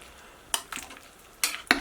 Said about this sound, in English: I'll just stir it up and put the lid back on